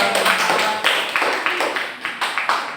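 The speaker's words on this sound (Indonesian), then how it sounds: "Tepuk tangan dulu ya." A classroom audience applauds a presenting student group, a short burst of hand claps with several loud, sharp swells that rise and fade over a few seconds.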